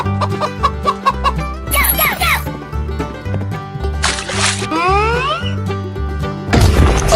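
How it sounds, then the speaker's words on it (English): A chicken in a 3D animal slide video game clucks repeatedly over bouncy looping music, joined by a few bursts of whooshing and crashing game effects. "Chicken."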